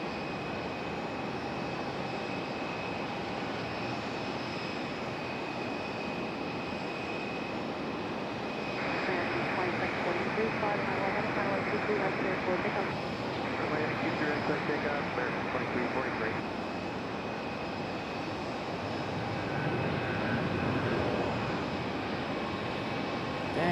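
An American Airlines heavy jet departs at night at Raleigh Durham International Airport, a steady broad engine roar that swells in the middle and again near the end, with a constant high tone over it.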